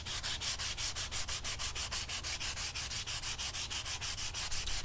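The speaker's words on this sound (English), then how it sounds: "as you're sanding, you are using even pressure the whole way through" Wood is sanded by hand with even pressure, giving a rapid run of rhythmic back-and-forth rasping strokes, close and steady, with no voices.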